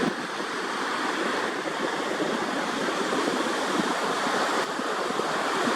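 Wind and ocean waves heard from beneath a beach pier, a continuous dense roar of surf and gusting air with steady loudness throughout and no voices.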